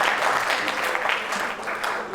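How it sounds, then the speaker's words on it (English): Brief burst of applause from an audience at a startup pitch competition, a crowd of hands clapping loudly and densely, then tapering slightly by the end. "Big round of applause."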